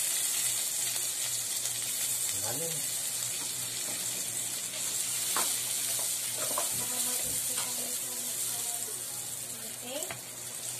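Butter or margarine sizzles in a frying pan with a constant close hiss, broken by occasional stirring clinks, while people talk quietly beneath it.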